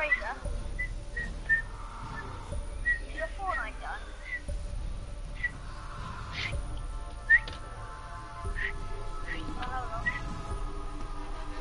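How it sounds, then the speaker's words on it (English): Someone whistling during a Black Ops multiplayer game session: scattered short whistled notes and chirps over game noise, with people talking throughout. "Who's whistling?"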